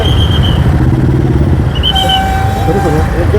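Motorcycles ride past traffic police at a signal in Thane, their steady engine drone close and loud throughout, with a voice talking over the road noise.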